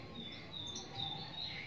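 A cucak jenggot songbird sings in short, high chirping phrases over a steady background hiss, moderately faint and continuous throughout.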